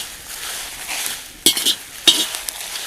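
Whole red chillies, Kashmiri chillies and coriander seeds dry roasting in a pan for masala: a quiet sizzle broken by two sharp scraping stirs of a spoon against the metal.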